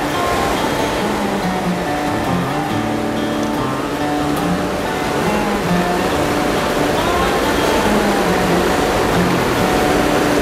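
Water pours steadily over a river spillway, making a loud, continuous rushing roar that fills the whole scene without a break.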